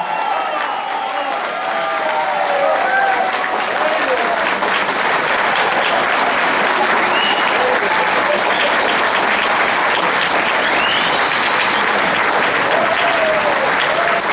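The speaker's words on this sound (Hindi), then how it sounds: "तालियां कुछ कम बजी, पता नहीं चला।" Loud, sustained applause from an audience at a Hindi poetry gathering (kavi sammelan), dense clapping that swells after a moment and holds steady throughout, with faint voices beneath.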